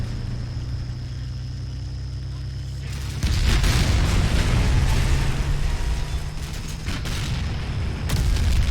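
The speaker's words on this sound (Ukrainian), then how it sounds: "Ще одне попадання." A shell impact in the Combat Mission Shock Force 2 war game, set in a Challenger 2 versus T-72 tank battle, lands as a loud sudden boom over a steady engine drone and rolls on as a broad rumbling roar before a second burst near the end.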